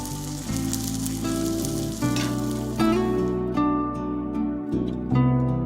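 Shimonita negi, the thick Gunma green onion, sizzles steadily in a pan as sukiyaki begins, with a loud continuous fry and faint clinks and tonal background sounds over it.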